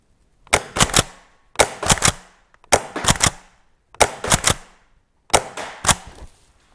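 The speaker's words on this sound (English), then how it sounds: "Again, 5 shots, and it's on tri-shot again." Tokyo Marui Keltec KSG green-gas airsoft shotgun on tri-shot firing five times, each shot a sharp close crack with a quick double report, evenly spaced about a second apart.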